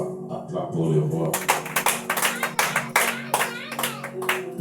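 A church congregation claps in a quick, steady rhythm, loud and close, while voices sing or call out over the applause.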